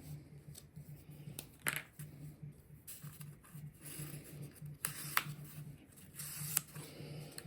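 Scissors trimming a paper axe paint pattern: irregular close snips and paper rustles, some sharper cuts among softer handling sounds, over a faint steady hum with no talk.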